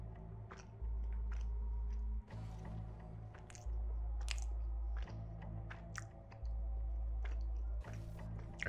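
Close, wet chewing and crunching on a dense cricket protein bar, steady mouth sounds over a low, droning background hum that cuts in and out.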